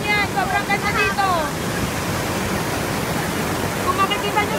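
A waterfall in Liliw, Laguna, with clear water: a constant broadband rush of falling water, close and steady, with a person talking briefly over it.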